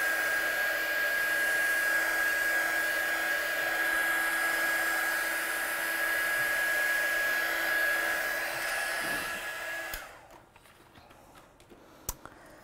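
A hair dryer blasts steadily at close range to dry a watercolour painting, giving a continuous whine for about ten seconds before it switches off. A few faint clicks and handling noises follow.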